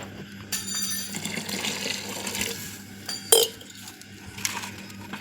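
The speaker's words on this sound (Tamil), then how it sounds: "குழம்புக்கு தேவையான அளவு தண்ணி ஊற்றி" Water splashes and trickles into a metal pot for curry, with a sharp clink of cookware partway through and light kitchen clatter around it.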